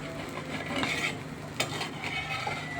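Thin dosa batter cooks on a hot griddle with a soft steady sizzle, broken by a few light scraping and metallic utensil clicks.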